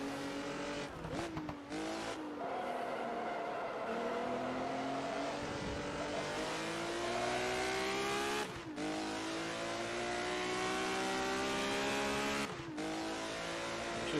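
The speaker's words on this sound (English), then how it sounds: "we have engine sound now" A video game 1980 BMW Procar racing engine at Zandvoort revs continuously, pitch climbing and dropping through gear shifts, with brief tire squeals; loud and steady throughout.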